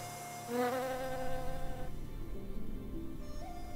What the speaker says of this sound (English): The bee will carry pollen grains to another Amomum maximum, thereby facilitating the plant's reproduction.